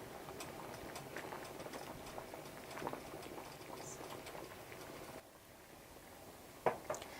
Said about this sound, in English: Now we're just going to let our rice cook for about 5 to 10 minutes.